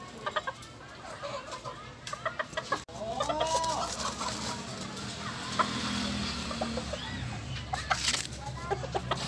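Sebright chickens in a small backyard coop cluck and chatter nearby, with a few sharp clucks early on and then a steady murmur of hens, plus a brief thump.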